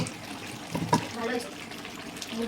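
Water poured into a new pressure cooker for mutton curry, a short trickling splash close by with a brief burst near one second, under ongoing talk.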